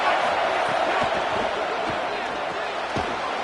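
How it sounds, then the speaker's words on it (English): A football stadium crowd in a college football video game roars as a dense, steady wash of noise, loud and continuous with faint thuds underneath. "This crowd ready to make its presence known."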